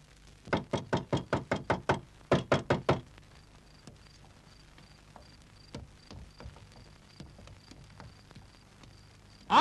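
Loud, fast knocking on a door in a Turkish comedy film, with a burst of about eight rapid raps, a short pause, four more, then softer scattered thuds and quiet background.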